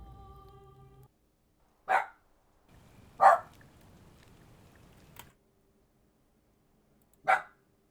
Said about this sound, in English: usually I will pause the recording when he's barking